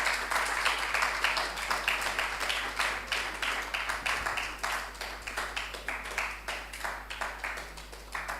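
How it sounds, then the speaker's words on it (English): Audience at a tertiary business challenge quarter-final applauding as contestants come on stage: continuous clapping from many hands, fairly faint and distant, holding steady throughout. "with a round of applause, let's welcome contestants on stage"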